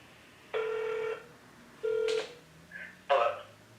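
Ringback tone of an outgoing phone call placed from a computer for a get-out-the-vote calling campaign: two long, even electronic rings, then a brief click and the line picking up, heard close and clean with no talk.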